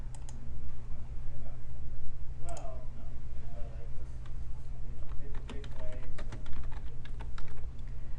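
Typing on a computer keyboard with irregular bursts of clicking keystrokes, moderately close, over a steady low hum, with brief traces of a voice in the background.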